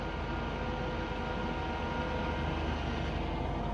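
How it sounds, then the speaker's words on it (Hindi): A WMW Heckert ZFWVG 250 x 2000 thread milling machine with hobbing head runs with cutter and work spindle turning, making a dense, steady broadband whir and hum at constant level, with no pauses or voices. "कटर की रोटेशन स्टार्ट हो गई, वर्क स्पिंडल की रोटेशन स्टार्ट हो गई है"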